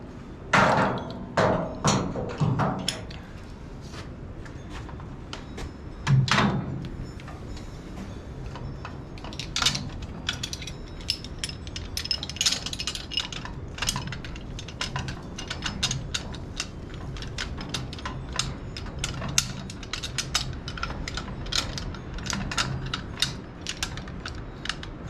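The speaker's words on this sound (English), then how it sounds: "I'm going to remove the old winch." An old electric winch comes off an ATV as tools work on it: close metallic clanks, ratcheting and thumps, heavy at first, then a long run of lighter irregular clicks and taps, with no talking.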